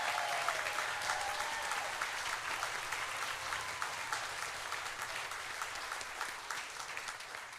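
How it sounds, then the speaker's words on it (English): A large audience applauds steadily at a gala evening honouring interns, staff and volunteers, dense continuous clapping filling the room with a faint whistle near the start. "So can we just give them all a huge round of applause"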